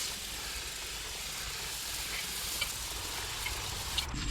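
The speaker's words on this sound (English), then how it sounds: "now I'm gonna clean it up with some brake clean" Brake cleaner hisses steadily from a spray can onto a rusty, wire-brushed front brake part of a Toyota Camry. The spray is a quiet, continuous mist with a couple of faint ticks near the end.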